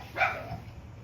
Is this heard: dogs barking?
yes